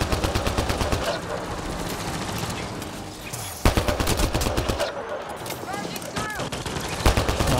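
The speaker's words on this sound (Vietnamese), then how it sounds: "Mày này bắn gắt quá." Rapid gunfire from the video game Mass Effect Andromeda on PS4, dense bursts of automatic shots filling the clip loudly with a brief pause midway, alongside game effects and occasional voices.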